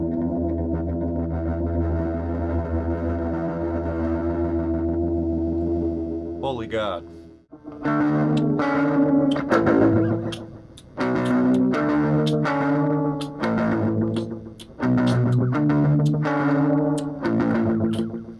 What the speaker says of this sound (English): I kind of want to see if we can get some distortion going.